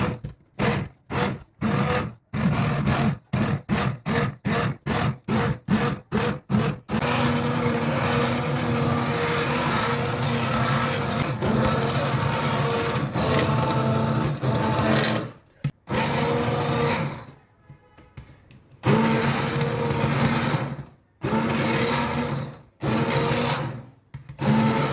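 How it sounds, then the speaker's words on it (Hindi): A hand blender whirs loudly through pressure-cooked beef haleem, first in rapid short pulses, then running continuously for several seconds before stopping and restarting in bursts with brief pauses. "तो बस अब इसके बाद मैं इसमें ब्लेंडर चला लूँगी।"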